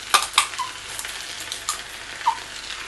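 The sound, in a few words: stirring tuna and mayonnaise mixture in a pan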